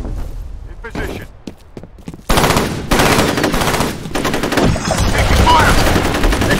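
Rapid automatic gunfire in the multiplayer shooter game F.E.A.R. Combat during a capture-the-flag match, starting with sparse shots and then turning into a loud, sustained burst of rattling fire, with a voice speaking over it.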